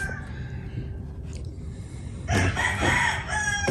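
At dawn on a small farm, roosters crow loudly and close by after a quiet stretch of low background noise, and a second crow follows right after the first.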